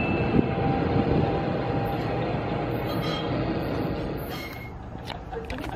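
The Dinky, a small shuttle train running to Princeton, New Jersey, rumbles past nearby, a broad steady roar with rattling that slowly fades, a few faint knocks and clicks toward the end.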